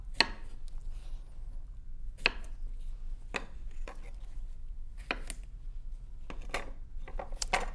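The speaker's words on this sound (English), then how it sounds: "The next step is to grate our cucumber. And what I like to do is chop the ends off." Knife chopping the ends off a cucumber on a cutting board, quiet sharp taps landing irregularly every half second to a second, close and faint against low background hum.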